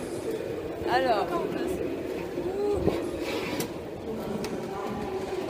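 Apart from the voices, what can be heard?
Paris metro train running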